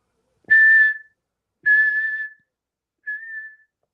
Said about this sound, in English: Sorry for the whistle.